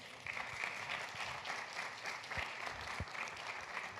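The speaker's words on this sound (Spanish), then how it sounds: "Un aplauso para ellos, por favor." Faint, steady applause from an audience at a university panel discussion on the constitution and education, even clapping filling the whole stretch.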